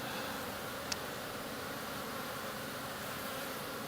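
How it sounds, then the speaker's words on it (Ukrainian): Honeybees fly around wooden hives on a January day, a steady, dense buzzing hum that fills the air continuously at moderate distance with no talk over it. "Ось цей вулик ще продовжує трішки більше літати. Ось так всі бджілки мої літали."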